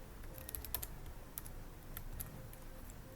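Computer keyboard keys tapped in quick irregular bursts while JavaScript code is entered, close and fairly quiet, with no talking.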